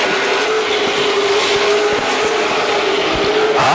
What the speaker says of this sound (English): Cook continues to sling mud.